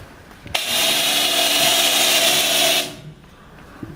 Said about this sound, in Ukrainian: Зразу ж починає йти піна.